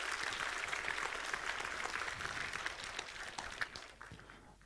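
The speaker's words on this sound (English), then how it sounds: "Please give a big round of applause for Bartosz." Sustained applause from a conference audience for a speaker, dense clapping that holds steady before tapering slightly near the end, with no voices over it.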